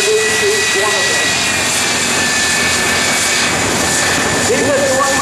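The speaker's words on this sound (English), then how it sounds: "These are the one Mustang, then the F4 Phantom." A P-51 Mustang and an F-4 Phantom fly over at an air show, a loud, continuous roar of piston and jet engines filling the scene, with a voice commentating over it.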